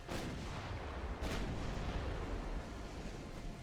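Naval gunfire in the warship game Ultimate Admiral Dreadnoughts, with two heavy booming shots roughly a second apart, each followed by a dense rumbling roar that keeps going, loud and without speech.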